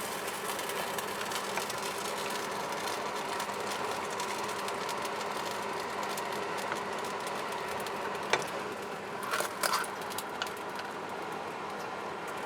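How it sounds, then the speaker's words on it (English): A kitchen extractor fan hums steadily above a cooking pot of beef goulash, a constant broadband whoosh with faint clinks and a few brief sharper knocks near the end. "that's my extractor fan above this pot"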